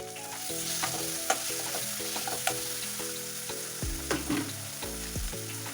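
Tomatoes with turmeric powder frying in a pan make a steady, close sizzle, with repeated stirring scrapes and clatter running through it, and no one speaking.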